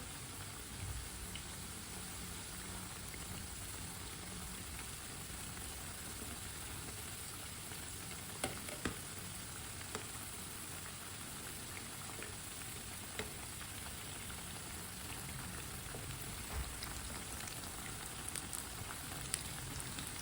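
Aloo pakora fry steadily in hot oil in a pan, a dense, even sizzle with faint crackles and occasional small pops, continuous and close, with no talking.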